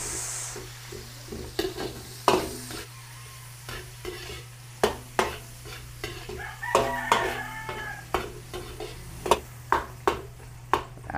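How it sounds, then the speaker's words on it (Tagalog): Garlic and onion sauté in a pan with a soft sizzle, cut by regular sharp spatula scrapes and taps; a rooster crows in the background partway through. "Luto-lutuin lang po natin yung ating panggisa."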